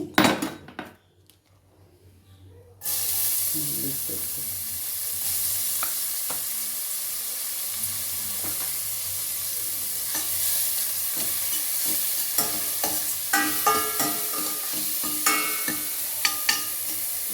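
Frying in coconut oil in a pan for kappa biriyani, starting after a brief quiet moment with a steady hiss and sizzle, plus scattered stirring scrapes and utensil clinks growing busier toward the end, close and with no talking.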